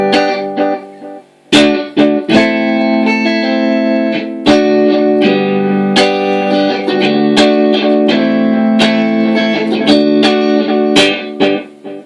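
An electric guitar played through a TC Electronic Flashback delay pedal rings out in sustained chords and picked notes, with repeating echoes trailing each attack, loud and continuous.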